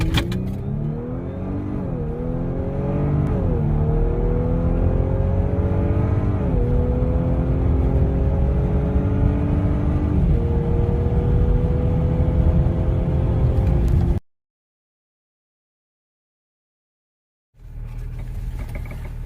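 An Audi B9 S4 fitted with a do-it-yourself airbox modification accelerates hard on an eighth-mile test run, its engine note rising through several gear shifts in a loud, sustained roar before cutting off abruptly.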